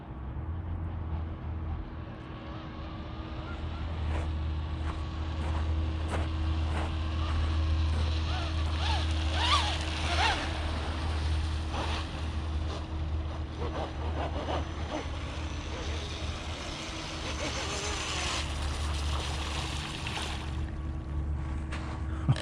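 A boat engine at full throttle, the JAE 33FE being tested after an electronics upgrade, drones steadily and loudly throughout with rushing wind and water noise over it.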